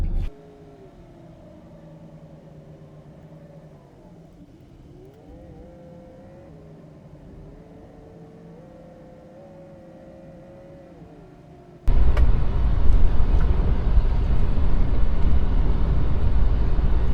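A truck driving on a cold winter road toward a campsite, a steady low engine hum with a whirring tone, then a sudden jump to a loud, rough, close roar near the end.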